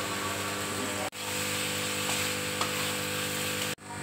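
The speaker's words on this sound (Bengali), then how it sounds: "ভাজা আলুটা আমি দিয়ে দিচ্ছি।" Fried potatoes go into a pan of sizzling soybean curry with sugar and masala, giving a loud, continuous frying hiss broken by two brief pauses.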